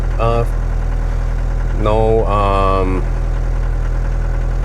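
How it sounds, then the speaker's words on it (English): A Mercedes W115 220D diesel engine idling steadily with a constant low drone, while someone speaks briefly over it in two short bursts. "As you can hear, the engine is idling perfectly well."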